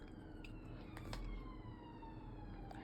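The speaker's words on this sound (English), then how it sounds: "I have a camera on 2 minutes and a siren goes past." A siren on an emergency vehicle, which turns out to be an ambulance, passes along a busy London through route. Its faint wailing tones rise and fall steadily above constant low street rumble, with no talking.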